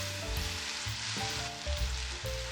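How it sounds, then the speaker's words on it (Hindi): Rice for sweet zarda tipped into hot oil in a pot, giving a close, steady sizzle and fry with some low clattering as the grains land and settle. "अब इसमें सारे चावल मैं डाल देती हूँ"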